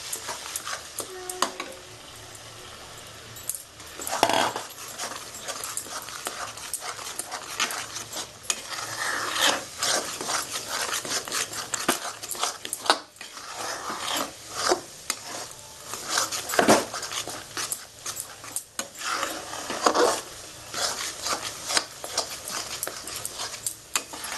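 An egg and tomato fry, Bengali style, is stirred in a pan: irregular scraping and clinking of a spatula against metal over a soft background sizzle, close and uneven in rhythm, with no talk.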